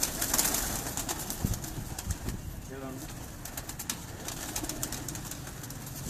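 Golden and pravaji pigeons on a rooftop, soft cooing heard faintly beneath background noise and distant sounds, with a brief low coo midway.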